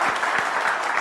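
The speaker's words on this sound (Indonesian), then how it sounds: "Tepuk tangan dulu dong semuanya." A crowd applauds steadily at a live event, a dense, unbroken patter of many hands clapping at close range for about a second.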